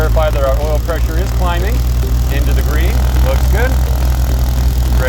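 A Beechcraft Baron's left piston engine runs steadily at a loud, continuous drone after starting, with a person talking over it.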